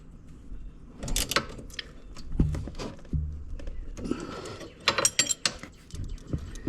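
A ratchet wrench tightens a bolt on a Honda FourTrax Foreman Rubicon 4x4 ATV, giving bursts of close, sharp mechanical clicking in short irregular runs with brief pauses between them, and no talking.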